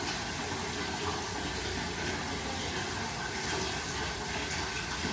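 Water gushes steadily from a tap or pump into a bucket for a children's bath at home, a continuous close rushing fill that holds level throughout with no talk.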